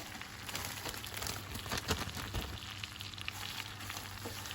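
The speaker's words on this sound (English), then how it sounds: "once your butter's melting down a little bit, just go ahead, tip all your breadcrumbs in there" Breadcrumbs tipped into melting butter in a pan while making cabbage strudel, a steady soft sizzle and crackle with a few small pops throughout.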